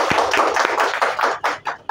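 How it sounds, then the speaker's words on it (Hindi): An audience applauds at a DXN product talk with a steady run of loud, close claps for about two seconds. "मैं उनका अभिवादन में आप लोग से आग्रह करता हूं कि एक बार ताली हो।"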